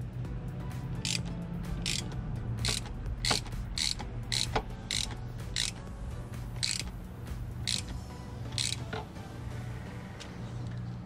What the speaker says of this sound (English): Get one last ratchet. Doesn't need to be too tight, just enough.